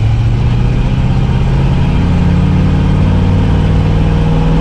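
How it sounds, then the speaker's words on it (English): The big V8 engine of a 1976 Dodge Ramcharger truck rumbles steadily up close, deep and throaty, holding a loud continuous drone with no voices. "It's got that nice throaty V8 sound."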